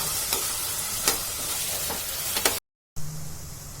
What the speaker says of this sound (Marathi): कांदा टोमॅटो चांगला शिजू देऊया